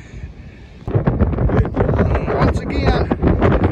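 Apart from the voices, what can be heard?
wind blowing across fields into the microphone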